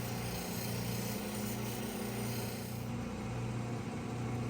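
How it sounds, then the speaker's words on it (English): A 600 grit soft diamond wheel polishes an agate cabochon, giving a steady motor hum with broadband grinding hiss, constant and close, with no talk. "Next up is this 600 grit soft diamond wheel. This is where the polishing really begins."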